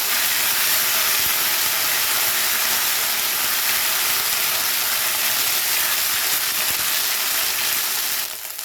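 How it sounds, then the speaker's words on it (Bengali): Ginger paste frying in hot oil with a pinch of asafoetida gives a steady, loud, hissing sizzle that holds evenly throughout and eases slightly at the very end, with no voices. "আদা বাটাটা দিয়ে তেলের সঙ্গে খুব ভালো করে ভেজে নিতে হবে।"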